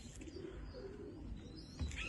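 Pigeons cooing softly over a steady low background hum, with a faint chirp or two, during a deworming session for pigeons.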